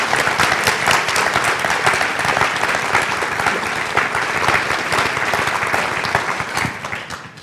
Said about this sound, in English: Let's give President Napolitano a round of applause